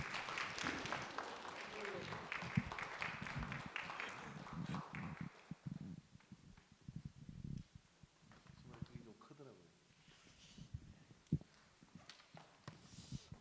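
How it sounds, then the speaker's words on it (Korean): A church congregation at a Wednesday service claps to welcome a missionary to the front. Loud clapping fills the first half and then thins into scattered claps, shuffling and faint talk. "박수로 우리 환영해 주시기 바랍니다."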